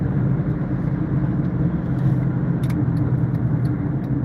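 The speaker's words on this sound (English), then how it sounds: "Car just passed me." A car rolls past on a road with a steady, close low rumble that stays even throughout, with a few faint light clinks near the end.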